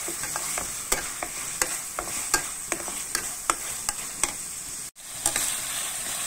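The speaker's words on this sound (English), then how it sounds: "give it a stir, cook them through" Spatula scraping and stirring in a pan of chwee kueh topping frying in sesame oil, a steady sizzle under a regular run of sharp scrapes roughly every half second, with a brief dropout near the end.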